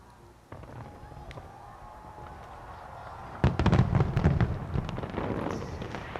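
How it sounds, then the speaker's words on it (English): New Year fireworks over Sydney harbour marking the start of 2022: a quieter crackle gives way to a dense barrage of loud booms and popping bursts in rapid succession, sustained to the end, with crowd noise beneath. "Australia has marked the start of 2022 with spectacular fireworks displays in Sydney and Melbourne."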